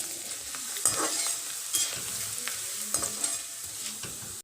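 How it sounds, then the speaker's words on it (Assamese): Flattened rice (chira) frying in hot oil in a kadai for a spicy Assamese mixture, with a steady close sizzle and regular scraping strokes as it is stirred. "ঠিক তেনে ধৰে মই এতিয়া এয়া চিৰাখিনিও ভাজি লম"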